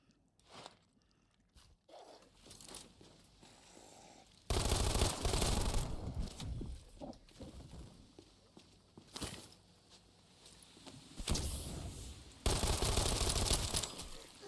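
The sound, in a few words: machine pistol firing in a video game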